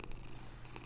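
A cat purrs softly and continuously in the Hogwarts Legacy video game, a faint, low, rumbling drone.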